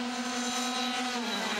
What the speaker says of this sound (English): all running the KT100 piston port Yamaha 2-stroke engines.